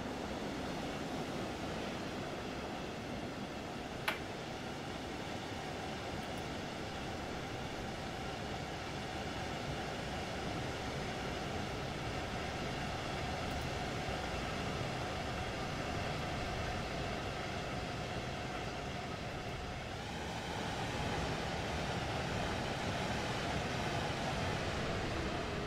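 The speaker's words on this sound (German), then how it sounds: "Lassen mal den Zug an uns vorbeifahren." A train passing by in Train Sim World 4, a constant heavy rumble and rolling wheel noise that holds steady for the whole stretch, swelling slightly louder near the end, with one brief click early on.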